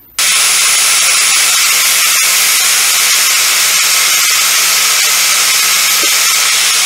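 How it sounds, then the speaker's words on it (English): A right-angle grinder fitted with a flap disc grinds metal edges, a loud, steady high-pitched whine that starts abruptly and runs unbroken without talk. "On my right angle grinder, I'm going to use a flap disc and just kind of take a little bit off of one edge of both of these"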